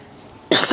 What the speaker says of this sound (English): Or I have to cough, or both.